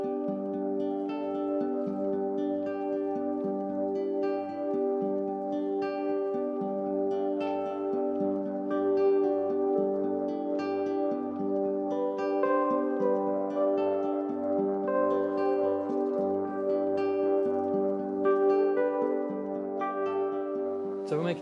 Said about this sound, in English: The 3D printer is currently running